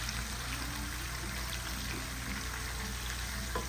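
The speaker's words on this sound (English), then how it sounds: "So they get spicier when they're frying like that." A steady, continuous crackling sizzle of peppers frying in hot oil runs throughout, close and fairly loud.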